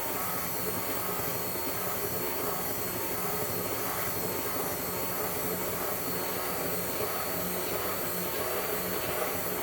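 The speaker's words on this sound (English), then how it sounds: "I may have to stick blend a little longer since I did that." A stick blender runs fully submerged in foaming bath butter, a loud, steady motor whir with a constant high hum and broad noise, unbroken for nearly ten seconds, close to the listener.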